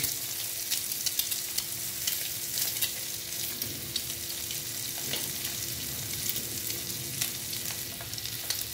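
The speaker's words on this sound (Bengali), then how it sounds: "ডিমটা আমি ভেজে নিচ্ছি।" Steady crackling sizzle of an egg frying in hot oil, close and continuous, with occasional louder pops.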